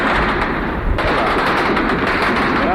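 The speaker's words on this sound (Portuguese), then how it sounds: "Tiros." Gunfire during the 1974 Lisbon revolution, a loud, dense crackle of shots echoing through city streets, continuous and raw across the whole stretch.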